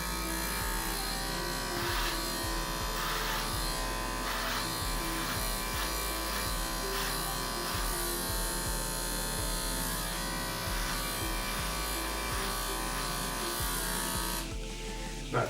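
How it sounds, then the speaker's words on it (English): An Oster electric hair clipper trims a goatee, giving a steady, close, unbroken buzz that holds at an even level for the whole stretch. "I'm gonna start off with the oyster clipper, and I'm gonna be daring to bring down my goatee"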